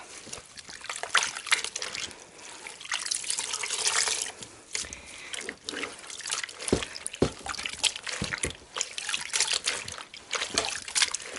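Water splashing and trickling in a sink while coarse handspun wool knitted bootie socks are hand-washed, close, with irregular sloshes and drips and occasional squeezing sounds.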